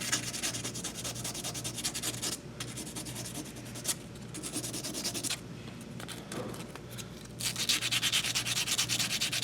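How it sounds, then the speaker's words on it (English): Sandpaper rubbing by hand along a freshly filed edge, a continuous close scratchy sanding sound with brief pauses between strokes, getting slightly louder near the end. "So now I'm going to start working around with this sandpaper and clean up"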